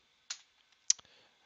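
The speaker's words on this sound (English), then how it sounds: "So we'll go ahead and we'll type in" A few separate clicks on a computer keyboard while typing a ping command into a command prompt, sharp and close in otherwise near-silence.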